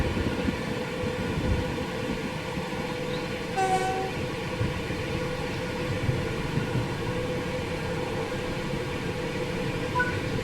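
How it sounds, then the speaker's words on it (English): A passenger train in Train Sim World 5, running from London Euston to Milton Keynes through countryside, rumbles and clatters steadily throughout, with a brief horn sounding partway through. "We are running our train through the countryside for last several kilometers or miles."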